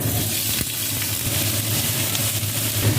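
White and red onion frying in oil, a steady, close hiss of sizzling that runs throughout with no break and no voices over it.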